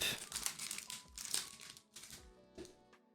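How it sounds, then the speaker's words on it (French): A Pokémon card booster pack wrapper crinkles and tears in short, close bursts, the stiff foil crackling several times before a final rip and a sudden stop. "Le booster est horrible à ouvrir"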